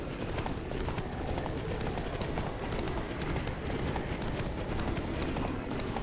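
Horse hooves galloping at a steady run in the video game The Witcher 3: Wild Hunt, a continuous rapid clip-clop with rushing movement noise, fairly quiet and without talk.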